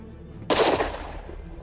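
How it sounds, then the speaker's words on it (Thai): A single rifle shot in the forest cracks out sharply and loud, then rolls away in a fading echo. "เสียงปืนดังก้องขึ้น1 นัด"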